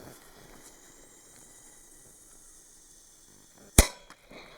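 A single sharp, loud firecracker bang from a Biedronka supermarket New Year's fireworks set, going off outdoors after a stretch of quiet background, with a short echoing tail.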